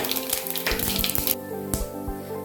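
Cumin seeds and a chili crackle in about five spoons of hot oil in a kadai, a close bright sizzle with scattered pops and clicks that eases to a softer hiss.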